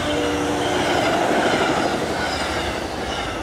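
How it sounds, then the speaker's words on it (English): A deafening train roars past at close range, a dense, continuous rumble and rattle of wheels on rails that stays loud throughout with no voices. "the deafening train that roars by every 30 minutes"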